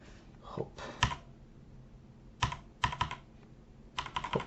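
A faulty computer keyboard is typed on in scattered short bursts of sharp, close clicks with quiet pauses between them.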